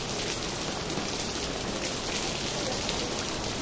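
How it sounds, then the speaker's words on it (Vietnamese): Steady rain pours down on Trần Bình Trọng street during a prolonged drizzly spell, a continuous dense hiss with no pauses and no voices. "trời đang mưa"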